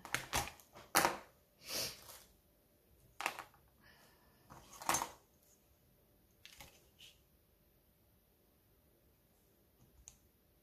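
Paper being cut with scissors for a handmade tag: several crisp snipping clicks close by in short bursts during the first five seconds, then sparser faint clicks, with no talking.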